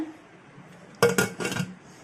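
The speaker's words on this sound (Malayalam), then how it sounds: "കുക്കറിൻ്റെ ലിഡ് വെച്ചിട്ട് അടയ്ക്കാം." A metal pressure cooker lid is set on and shut over plantain and lentil erissery on a lit gas stove: a quick cluster of close metallic clanks and knocks lasting under a second, with no voices.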